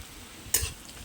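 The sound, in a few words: onion frying in a pan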